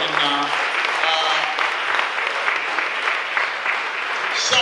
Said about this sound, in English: Je vais profiter d'applaudir maman